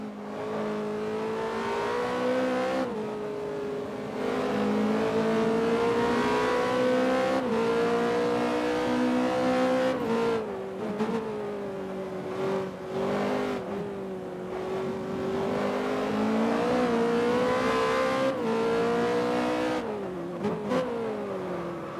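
Formula Masters open-wheel race car in the PC racing game Race On, a loud, close engine wailing through rising revs and gear shifts, dipping on lifts and climbing again, with no voices.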